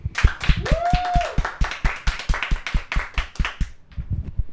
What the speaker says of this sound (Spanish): Les pedimos que desde sus hogares nos regalen un fuerte aplauso